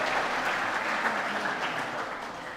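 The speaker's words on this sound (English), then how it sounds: "You can clap and do a little happy dance." An audience at a school graduation assembly at St Edmund's College Canberra claps in a sustained, dense round of applause, even and continuous throughout.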